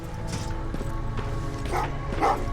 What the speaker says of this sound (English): Well, what's with the dog?